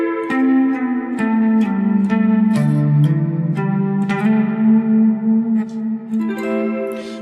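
A guitar plays the closing bars of a haunting, sad piece, bending and sliding single notes with vibrato through chorus and reverb effects, loud and alone, ending on a ringing chord.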